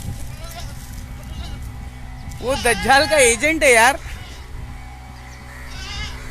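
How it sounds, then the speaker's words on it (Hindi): A male goat bleats loudly in a quick run of wavering, nasal calls lasting under two seconds, with people talking before and after it. "मिर्जा इंजीनियर बकरा है मेरा।"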